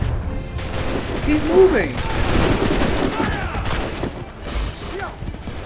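Rapid volleys of gunfire in the Assassin's Creed 3 video game, dense crackling fusillade over a battle din, with someone shouting briefly among the shots.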